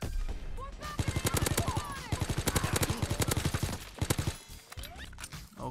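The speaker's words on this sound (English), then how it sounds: "Well, alright, Type 100, it's time to see what you can do." Type 100 submachine gun firing in Call of Duty: WWII, rapid bursts of fast automatic shots with short pauses between them, loud and close, with other game effects in the background.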